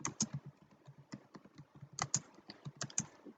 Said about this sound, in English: let's type the comment section